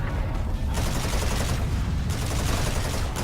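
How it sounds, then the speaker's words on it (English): Rapid energy gun fire in a Call of Duty game, dense continuous bursts with short gaps, loud and steady. "As he's shooting off that energy gun again"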